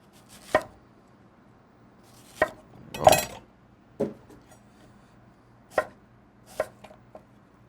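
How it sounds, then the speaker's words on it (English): Sharp knife chops through an apple around the core onto a cutting board one at a time with irregular gaps, about eight distinct cuts, close and crisp. "So I'm going to start by chopping up some of my my apple here."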